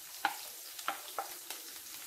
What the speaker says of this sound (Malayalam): ഇനി ഇതിലേക്ക് എടുത്തു വെച്ചേക്കുന്ന ഇഞ്ചി, പച്ചമുളകും വെളുത്തുള്ളി നമ്മൾ ചേർത്ത് കൊടുക്കുകയാണ്.